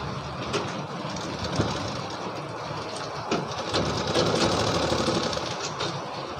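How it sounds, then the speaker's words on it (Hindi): A sewing machine stitches a leftover section of belt onto a readymade lehenga, running in a steady, continuous mechanical chatter close by with no talking. "इसको इस तरह से रखेंगे और ऐसे सिलाई लगा देना है हमको।"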